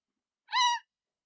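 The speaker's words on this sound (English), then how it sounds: "Look, a raven has arrived." A raven calls once in the Siberian taiga near a hunting site: a single short, clear, tonal cry rising out of near silence, fairly close and alone.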